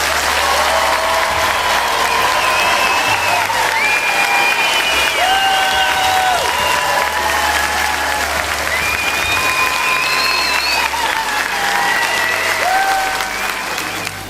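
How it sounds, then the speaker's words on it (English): Loud, steady crowd applause and cheering for homecoming Texas Army National Guard soldiers of Bravo Battery 133 Field Artillery in Port Arthur, dense and sustained throughout with whistles rising above the clapping. "Please give them a roaring round of applause."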